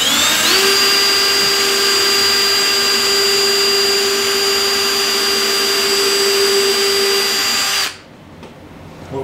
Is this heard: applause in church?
no